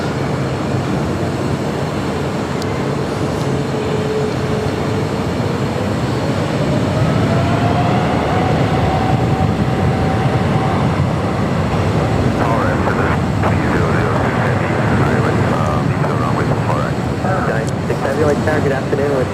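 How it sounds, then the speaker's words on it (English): An Air France Boeing 777-300ER jet airliner at LAX, a loud, continuous engine roar with a slowly rising whine, heard alongside talk. "Air France 777 300ER heading back to Paris."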